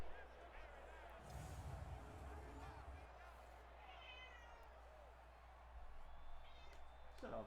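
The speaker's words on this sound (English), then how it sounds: "Shut up, cat." A cat meows repeatedly in short, wavering calls over faint background talk and the hum of a sports game broadcast, fairly quiet and close.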